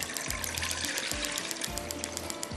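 Water pours into a cooking pan in a steady continuous stream, with gushing splashes and a few rhythmic gurgling pulses, close and fairly loud.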